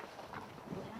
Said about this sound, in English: That's a goose greeting.